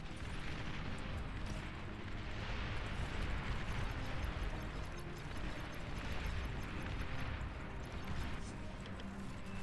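A dense artillery barrage from blind fire in the real-time strategy game Beyond All Reason: a continuous, faint roar of overlapping distant explosions with no clear gaps between shots.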